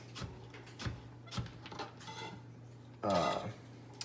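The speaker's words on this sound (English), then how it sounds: "So we're gonna cut it kind of into little matchsticks" A knife slicing carrots into matchstick strips on a cutting board, with several sharp chops spaced through the clip and a louder scraping clatter near the end, close by with no talk.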